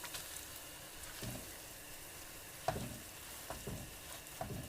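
Spinach with diced ham and onion sizzling in a hot pan, a steady hiss with occasional sharp pops and crackles, fairly quiet and close, with no voices.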